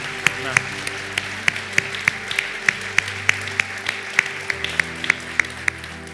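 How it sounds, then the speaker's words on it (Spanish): A church congregation claps in a steady, even beat over sustained keyboard-like tones, each sharp clap landing at regular intervals, with a voice speaking faintly in the background. "Give a big round of applause."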